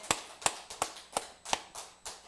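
A church congregation claps in praise during a sermon, seven sharp, evenly spaced claps ringing out at a steady rhythm with no voices.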